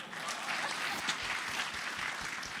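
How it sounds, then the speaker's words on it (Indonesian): An audience at a festival talk claps steadily, a dense even patter of many hands heard from the crowd. "apa gak tepuk-tepuk tangan dulu nih?"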